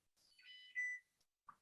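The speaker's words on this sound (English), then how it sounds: "There's something beeping at me in my kitchen, and I don't know what it is." A kitchen appliance beeps softly in the background, a few faint electronic tones running for about a second with brief quiet gaps, heard alone with no talking.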